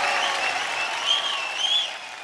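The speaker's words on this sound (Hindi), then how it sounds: "जोरदार ताली।" An audience at a Bhojpuri singing show claps loudly in a sustained burst of applause, dense and continuous, swelling slightly before easing off.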